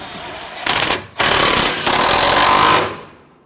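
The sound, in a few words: impact wrench tightening fuel tank strap bolt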